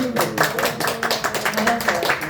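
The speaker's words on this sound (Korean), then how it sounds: "박수 한번 보내드릴까요?" Audience clapping at a graduation ceremony, a steady patter of hands from a small crowd, close and continuous, with a voice talking over it.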